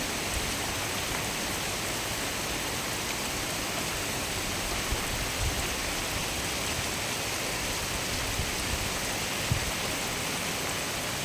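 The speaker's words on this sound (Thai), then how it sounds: "มาอีกแล้วครับผม ฝนตกหนักอีกแล้ว" Steady, dense hiss of heavy rain falling without pause, even and broadband, with a few faint thuds of drops hitting a nearby surface.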